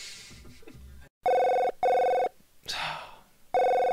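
A telephone rings in three loud, steady electronic bursts with short gaps, preceded by quiet murmuring talk and broken by a breathy sound between rings.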